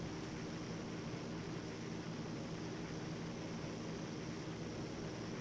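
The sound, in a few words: aircraft flying in FlightGear flight simulator video game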